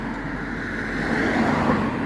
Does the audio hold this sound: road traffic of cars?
yes